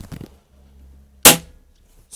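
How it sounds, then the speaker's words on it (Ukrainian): A single sharp Diana P5 air pistol shot cracks out near the middle of a quiet stretch, loud and close, with a brief decay afterward. "п'ятий постріл зараз буде"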